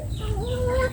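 Farm chickens cluck in a single near, fairly loud call over low background noise, with no voices.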